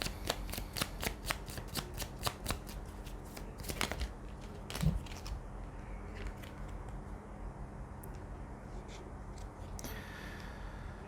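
Tarot cards shuffled in steady, rapid riffling bursts, close and crisp, with a few sharper card slaps and softer handling sounds as the pace slows toward the end; no talking.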